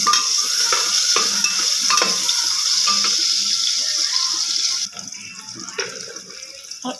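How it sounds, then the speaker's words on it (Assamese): Chopped onion hitting hot oil with cinnamon in a pan and being stirred well, a loud sizzle with repeated spatula scrapes and knocks that quietens noticeably partway through, no voices. "লগতে কাটি থোৱা পিঁয়াজটো দিলোঁ ভালদৰে লৰাই দিম"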